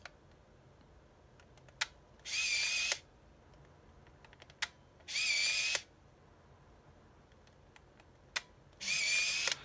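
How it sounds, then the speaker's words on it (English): A Nikon Nice Touch Zoom compact film camera firing its shutter three times: each sharp click is followed by a short, loud motorized whir, spaced a few seconds apart in a quiet room. "So I'm going to take a photo right now, and you're going to see the iris open up."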